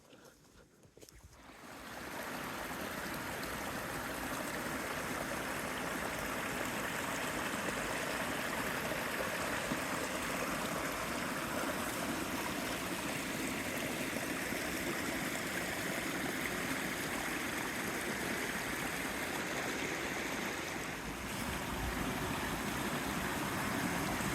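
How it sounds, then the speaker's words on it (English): Steady rushing water from a small stream crossing on a forest hiking trail, a continuous broadband flow that holds level throughout with no talk. "There's a lot more water flowing through some of these little crossings than usual."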